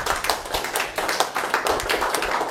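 A church congregation claps and cheers together, with dense fast clapping and raised voices that fill a live room at steady loudness.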